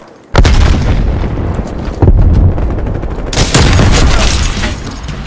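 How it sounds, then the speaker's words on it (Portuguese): A fragmentation grenade blast and gunfire in Call of Duty: Black Ops Cold War multiplayer deathmatch. A loud boom hits after a quiet start, followed by a second heavy burst and sustained rattling gunfire to the end. "Mandando granada de fragmentação."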